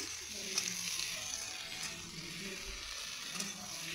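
Onion greens sizzle steadily in a hot pan with fried spices, a soft continuous hiss with faint occasional clicks of stirring.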